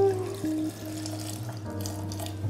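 Water poured from a glass into a blender jar holding green apple pieces, a steady close pouring and splashing that runs about two and a half seconds with a low hum underneath.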